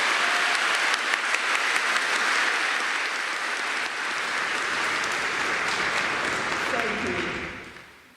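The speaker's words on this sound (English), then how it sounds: "Would you give her a round of applause?" An audience at a summer nurse pinning ceremony applauds a nurse graduate in steady, full applause that holds for several seconds before fading away at the end.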